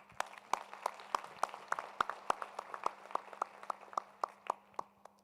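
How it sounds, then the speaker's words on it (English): A small audience at a UNESCO youth forum claps, sparse distinct hand claps ringing out in a steady rhythm, fairly close and clear over a low hum. "let's give a big round of applause to UNESCO"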